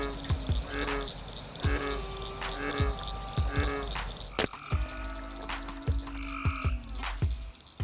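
Wild frogs croak repeatedly near water in a rhythmic series of close, loud calls, with insects or crickets buzzing steadily behind them.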